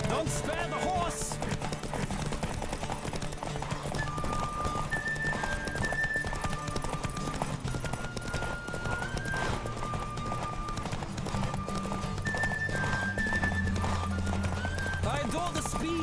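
Steady clip-clop of galloping hooves runs throughout over a busy music bed, with an occasional whinny rising above the mix, from the video game The Witcher 3: Wild Hunt.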